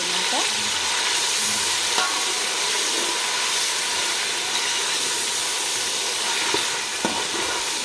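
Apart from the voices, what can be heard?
stirring ginger garlic paste and onions frying in a pan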